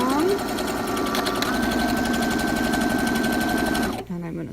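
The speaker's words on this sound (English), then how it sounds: "I'm going to sew along." Sewing machine stitching fabric in a steady, fast mechanical whir with rapid rhythmic needle ticks, close and continuous, then slowing and stopping near the end.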